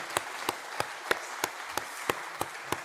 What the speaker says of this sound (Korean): 우리 함께 박수로 함께 축복하시겠습니다.